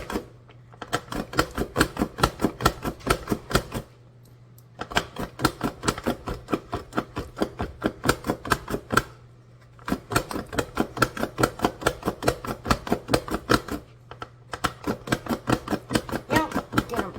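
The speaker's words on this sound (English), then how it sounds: "All sliced up nice and evenly, and they'll all cook evenly." Rapid, even knife strokes chop through carrots against a board, a steady fast rhythm in bursts with brief pauses, close up with a faint hum beneath.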